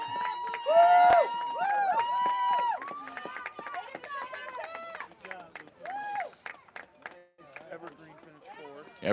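Crowd at a high school track meet shouting and cheering runners down the home stretch, with many overlapping near voices and calls rising and falling, loudest early on, alongside a nearby commentator talking.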